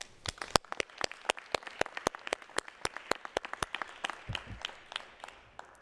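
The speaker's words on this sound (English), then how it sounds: "Join me in a round of applause for our graduates and for those who made this event possible" Sparse, distinct hand claps at a 2021 graduate commencement, a few people clapping in a quiet room, each clap crisp and separate, fairly faint with no talk.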